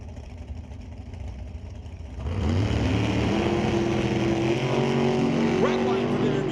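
Drag race between a 588 cubic inch big block Chevy and a 632 cubic inch 1996 Oldsmobile, engines droning at a distance and then swelling into a loud rising roar of revving, accelerating cars.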